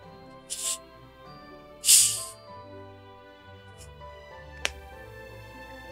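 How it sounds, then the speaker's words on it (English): A can of Dr. Pepper opens with a sharp pop and hiss, then a quieter fizz and a brief click follow against a faint steady background hum. "Let me give you the nice sound of a Dr. Pepper opening."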